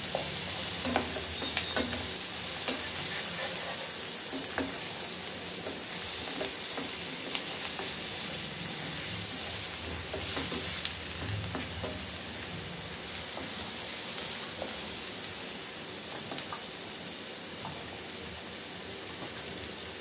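A spoon scrapes and stirs spicy Maggi noodles in a pan while oil sizzles and crackles steadily underneath, with irregular clinks and scrapes recurring throughout at close range and no talking.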